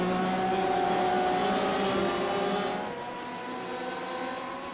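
Race cars lap Watkins Glen in the iRacing sim, a loud, steady engine drone that holds high and then drops to a lower, quieter pitch partway through as the car eases off.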